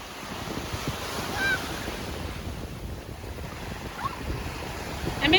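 Ocean surf washes and breaks steadily on a beach where people are swimming, with wind noise buffeting the microphone throughout and faint voices in the background.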